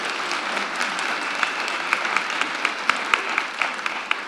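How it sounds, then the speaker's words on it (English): Steady audience applause fills the room after a presentation, a dense even wash of many hands with a few sharper nearby claps standing out, continuing throughout without voices. "could we have a round of applause for a fantastic presentation?"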